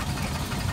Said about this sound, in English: a proper ploughing engine in the arena